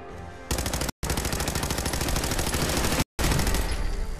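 Machine gun fire in Fallout 4: loud, sustained automatic bursts with fast, even rhythm, broken by two brief gaps, close and dominant with no talking.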